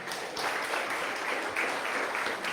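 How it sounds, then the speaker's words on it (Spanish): A church congregation at a Spanish-language service claps together in a full, sustained round of applause, even and busy throughout, with no voices over it. "Dale una ofrenda de palmas a Dios."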